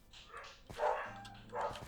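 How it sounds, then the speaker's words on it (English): Pet dogs bark excitedly somewhere nearby but not close, two or three muffled woofs in quick bursts, with a soft whine between them. "My dogs are going crazy again."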